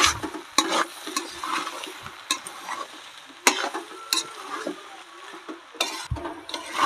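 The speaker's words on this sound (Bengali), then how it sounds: "তো এইভাবে আমি কিছুক্ষণ কষিয়ে নেব" Spiced chicken ghugni being sautéed in a pan, soft sizzling broken by repeated scraping stirs and spatula clacks against the metal, close and fairly quiet.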